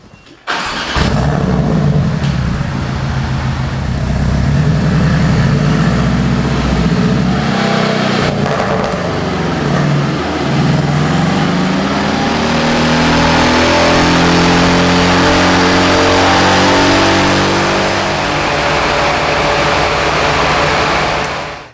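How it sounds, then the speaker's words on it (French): A Porsche Cayman 718 Stage 2 with a small flat-four engine, full exhaust and remapped tune, revving hard on a dyno, a loud sustained roar climbing through the gears with a brief dip midway and pops near the start. "Le pop and bang sur une Porsche, ça fait un petit peu bizarre"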